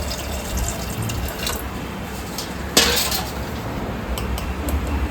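Water runs steadily into a pressure cooker holding small washed potatoes in a home kitchen, a soft continuous splashing with a brief louder gush midway.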